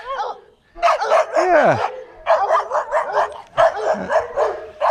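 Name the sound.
dogs barking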